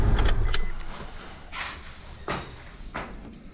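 Car keys pulled out and jangled inside a vehicle, a few close, bright metallic jingles in separate short bursts, with no talking.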